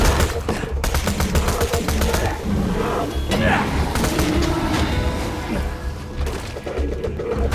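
Bandit guns in Borderlands 2 fire in rapid bursts and scattered shots, with thuds and impacts mixed into busy game sound and a voice talking.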